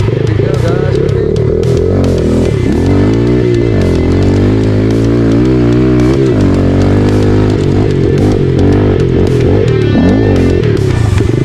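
A 2017 Yamaha TTR 110 dirt bike on a hot-lap time trial, its engine loud and close throughout, revving up and down steadily as it works through the gears without a break.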